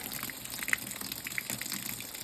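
Water gushes into a LAVARIO off-grid hand-operated washing machine, a steady rushing pour with small splashy bursts and gurgles, close and fairly quiet, no talking.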